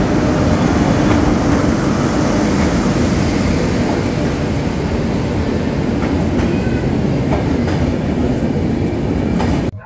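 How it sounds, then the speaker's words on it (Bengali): An LHB-coach Shatabdi Express rolls along the rails out of Malda Town station, heard from inside as a loud continuous rumble with faint rhythmic wheel clicks, no talking, cutting off abruptly at the end. "ফাইনালি নির্ধারিত সময় থেকে প্রায় 7 মিনিট দেরিতে আমাদের ট্রেন ছেড়ে দিল মালদা টাউন স্টেশন।"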